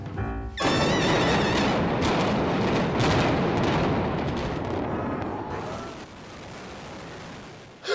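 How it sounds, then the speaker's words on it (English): Seattle's Kingdome stadium is brought down by a demolition blast: a thunderous, sustained rumbling roar that starts suddenly, rolls on for several seconds and then slowly fades. "Now, blowing up the Kingdome, that was my idea."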